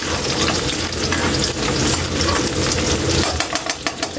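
Garlic frying in a pan until golden brown, a loud, dense sizzle and crackle that runs continuously, breaking into sharper bubbling pops toward the end.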